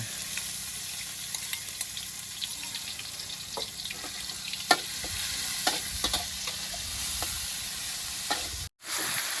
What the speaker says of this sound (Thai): ผัดเครื่องให้หอมเลยนะ